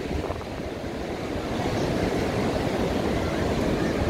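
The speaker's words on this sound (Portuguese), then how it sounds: "Olha o tamanho das ondas que tá quebrando lá." Large ocean waves breaking at Balneário Camboriú beach, a loud continuous roar of surf with steady low rumble, swelling slightly over a few seconds, with some wind buffeting the microphone.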